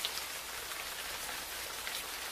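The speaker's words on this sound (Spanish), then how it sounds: "Lluvia." Rain falling in an anime scene, a soft, even patter of drops on surfaces that holds steady and fairly quiet throughout.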